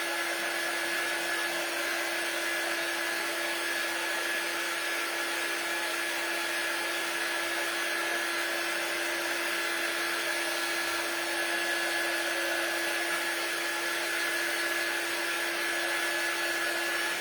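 A hair dryer blows steadily on a craft transfer for Christmas decor, a constant close whir with a faint high whine and no breaks or talk.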